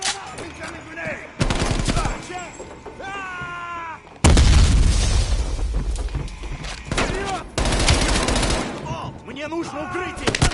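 A grenade thrown in the Black Ops Cold War video game, followed by loud, close explosions and bursts of gunfire that rumble and thump through the scene, with shouted voices in between.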